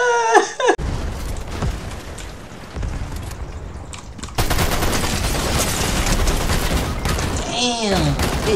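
Gunfire in Fortnite rattles in dense bursts and rapid volleys, heavy and loud, broken by a short pause before a fuller, louder barrage, with game sound effects and a player's voice in between.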